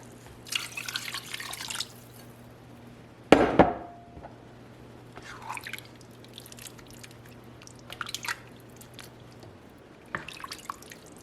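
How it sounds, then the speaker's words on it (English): Water splashes and trickles into a pot of potatoes and beef, with a sharp burst of pouring midway and scattered drips and clinks around it, no talking. "I start adding in some water."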